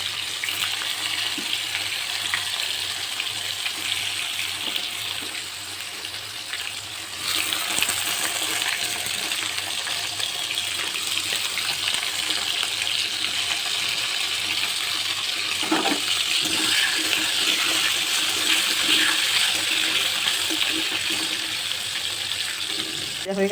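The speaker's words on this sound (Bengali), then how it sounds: "বেগুন দিয়ে দিলাম, বেগুনটা একটু না ভাজলে ভালো লাগে না।" Eggplant frying in oil for Bengali sukto, a steady close hiss and sizzle running throughout, jumping louder partway through as the pieces go in, with faint clinks and a brief voice.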